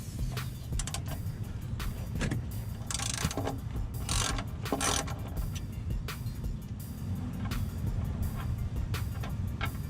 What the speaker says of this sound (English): So I'm going to use a 14mm socket and a ratchet to remove the drain bolt.